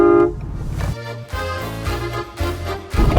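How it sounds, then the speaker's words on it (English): A train horn sounds three short, loud blasts as the train starts moving, each a buzzy chord, separated by brief gaps. "And as the train gets moving, it's 3 short blasts."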